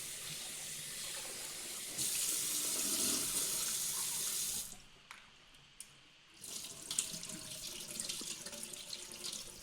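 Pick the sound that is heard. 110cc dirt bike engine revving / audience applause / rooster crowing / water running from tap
water running from tap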